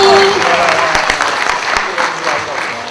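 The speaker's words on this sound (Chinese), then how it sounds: "我们用热烈的掌声来欢迎所有的嘉宾来参与我们今天晚上的晚会" A crowd applauds steadily at a company's 20th-anniversary evening gala, a dense wash of clapping that slowly fades, with a brief voice at the start.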